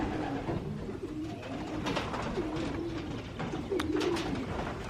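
Racing pigeons coo softly and repeatedly in a low warbling murmur, several birds together with faint rustling and chirps in the background.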